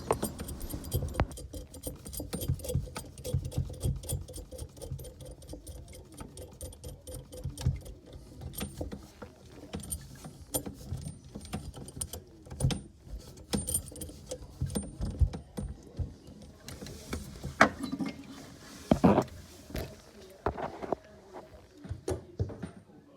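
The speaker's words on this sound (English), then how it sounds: "start winding the brass monoblock back nut up and lock the tap into place onto the bottom of the sink" Under a sink, a brass back nut is wound up the threaded shank of a monoblock tap. It gives a long run of rapid metallic clicks and rattles, with irregular clunks and no talking.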